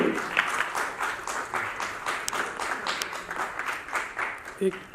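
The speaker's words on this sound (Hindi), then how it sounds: "एक बार सबके लिए जोरदार तालियां होनी चाहिए।" An audience at a national award ceremony in Jaipur keeps up a steady, moderately loud round of applause, many hands clapping continuously while a voice speaks over it.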